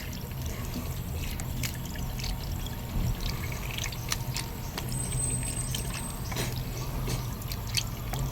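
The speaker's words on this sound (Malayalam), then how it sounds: "ഞാൻ ഇപ്പോൾ ഫേസ് വാഷ് ചെയ്യാൻ പോവാണ്" Hot water running from a tap while someone washes their face. A steady close pour with dripping and splashing continues throughout, with no talk.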